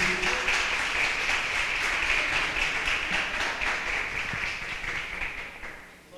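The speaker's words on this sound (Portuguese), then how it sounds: "Você pode dar uma linda salva de palmas para o Senhor Jesus?" A church congregation applauds during a sermon, a dense, steady wash of many hands clapping that stays loud and then tapers slightly toward the end.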